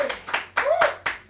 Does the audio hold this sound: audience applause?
yes